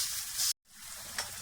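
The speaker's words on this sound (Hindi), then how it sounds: "लहसुन और अदरक के साथ बहुत ही अच्छे तरीके से इसकी भुनाई हो रही है" Garlic and ginger paste fries in a pan, a steady bright sizzle broken by a brief cut, then continuing with a small crackle.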